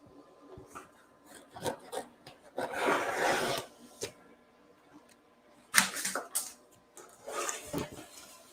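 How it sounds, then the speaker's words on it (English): Scissors make rasping, scraping cuts through heat-transfer vinyl in a few separate bursts with quiet gaps between, close by. "Okay, I'm going to cut this guy off."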